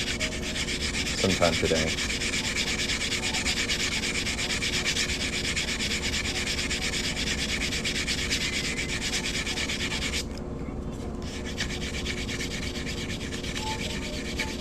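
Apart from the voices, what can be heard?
sanding quarter coin ring with nail file blocks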